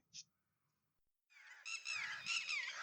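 Red-wattled lapwing giving loud, repeated strident calls that start after a brief chirp and a pause, then carry on continuously and close, with no talking.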